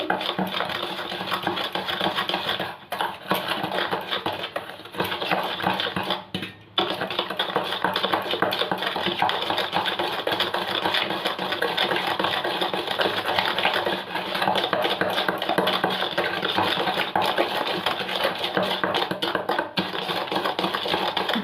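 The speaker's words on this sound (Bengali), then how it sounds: "এবার ডিম আর চিনিটাকে ভালো করে আমি এটাকে মিশিয়ে নেব" Eggs and sugar being beaten together for semolina biscuits, a fast, continuous whisking rattle against the bowl that keeps up steadily with only a couple of brief pauses.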